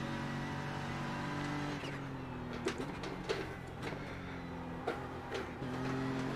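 A BMW M4 GT3 race car in a racing video game at Imola drones steadily at high revs, with pitch shifts through gear changes and sharp clicks over the engine, no talk.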